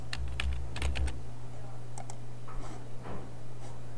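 Brief bursts of typing on a computer keyboard while entering a Chrome extension name, a cluster of quick key clicks early on, then a few scattered taps over a steady low hum.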